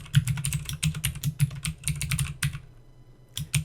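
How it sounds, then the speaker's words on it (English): Quick bursts of keystrokes on a computer keyboard while renaming a database field, clicking in rapid uneven runs, a short pause, then a final couple of taps. "we type in what we want the new name for the field to be"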